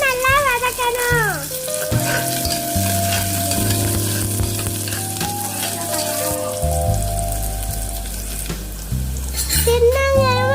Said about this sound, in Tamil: சின்ன வெங்காயத்தை போட்டுக்கணும். அதே மட்டும் நல்லா வதக்கணும்.